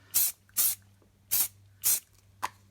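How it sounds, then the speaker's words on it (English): A Thermoweb Glitter Dust silver aerosol can sprays in four short, close hissing bursts, with a fainter puff at the end, in a quiet room. "I am also going to grab this Glitter Dust Silver Spray, which adds shimmer to paper, floral, and fabric crafts."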